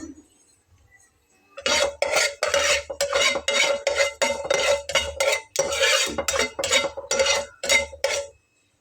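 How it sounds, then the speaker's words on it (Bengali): Black mustard seeds frying in hot oil in a pan are stirred with a utensil, making a quick, regular series of loud, close scraping and rattling strokes that start after a quiet moment and stop abruptly. "সরিষাটাকে একটু নেড়ে চেড়ে নিলেই কিন্তু এরকমভাবে ভাজা হবে ফুটফাট করে ফুটে উঠবে"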